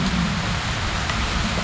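Steady rain hisses evenly throughout, a constant wash of falling water with no breaks.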